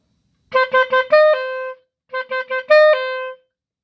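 Clarinet plays the verse of a song in two matching phrases, each a run of short detached notes ending on a long held tone, bright and close with no voices.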